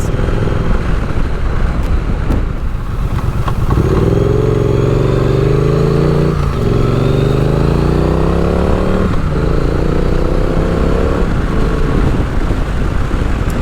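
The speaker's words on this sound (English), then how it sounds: "This bike still has some pretty good get up and go." A CB motorcycle rides through South Philly streets, its engine loud and close, revving up through rising pitch sweeps with brief dips between gear changes, steady road rumble underneath and no talk.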